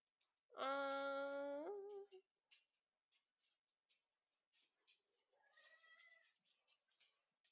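A cat gives one loud, drawn-out meow up close, followed by a quieter, shorter meow a few seconds later amid faint rustling.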